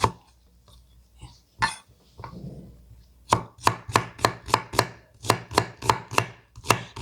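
A knife cutting onion into thin strips for kimchi on a board, a few scattered cuts first, then a fast steady run of about a dozen crisp chops, close and distinct.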